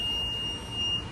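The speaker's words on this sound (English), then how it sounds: "we did hear a weird beeping noise and we were like, what was that?" An electronic alarm device gives a steady, high, piercing tone that holds for about a second, with faint room noise underneath and no talking.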